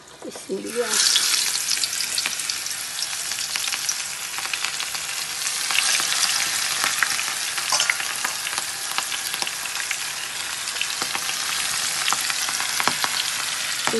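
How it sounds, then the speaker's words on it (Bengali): Mustard seeds dropped into hot oil, frying with a loud, dense, continuous sizzle and crackle that starts abruptly and holds steady, heard close up with no talking over it. "গরম হয়ে গেছে, আমি এখন সরিষা দিলাম।"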